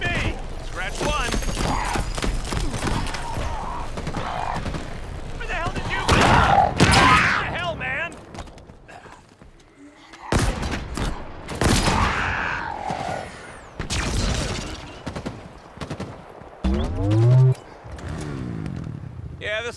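Halo Infinite combat gunfire, a mix of loud rapid bursts, single shots and booming blasts scattered through a busy firefight, with in-game voices shouting over it.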